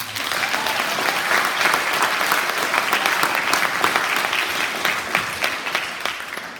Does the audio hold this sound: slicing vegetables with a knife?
no